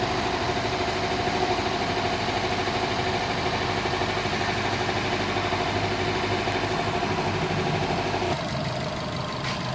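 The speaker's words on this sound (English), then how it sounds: "All right, the engine's running good." A rebuilt Subaru EJ255 engine idles steadily up close, a dense, even running drone with constant level that drops slightly near the end, no voices.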